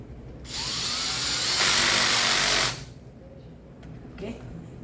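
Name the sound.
tightening screws on a circuit breaker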